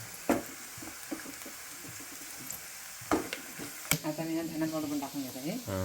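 Onion and garlic frying in oil with turmeric and homemade spice masala, crackling and hissing close up in uneven bursts, with sharp clatters and a voice talking in the second half.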